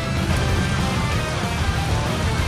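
Steady rain pours down outdoors during an ATV trip through floodwater in Cameron Highlands, a dense, continuous wash of drops hitting surfaces close by with no pauses.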